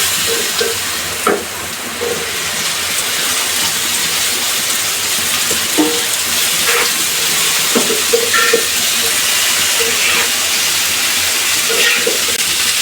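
Okra frying in a pan with turmeric sizzles steadily, with occasional sharp crackles and the clink of stirring over a continuous hiss.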